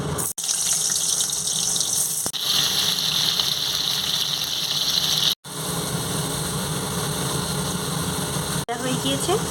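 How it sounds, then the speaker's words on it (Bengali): Potatoes fry in hot oil for a Bengali dhokar dalna gravy, making a loud, continuous close-up sizzle with a few brief breaks. "আমি ধোকার ডালনা রান্নার জন্য গ্রেভির জন্য আলুগুলো ভেজে নেব।"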